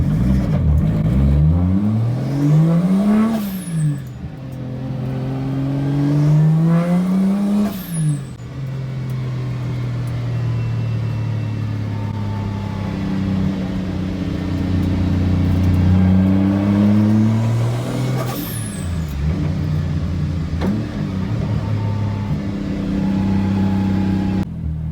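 A Toyota R154 manual gearbox with a short shifter: the car engine revs up and drops repeatedly as it shifts through gears, then settles into a steady drone and revs again near the end.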